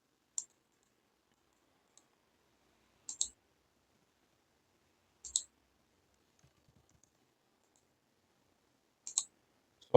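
Computer mouse clicks confirming OK in CAD software: a handful of short, sharp clicks, some doubled, spaced a few seconds apart in an otherwise silent room.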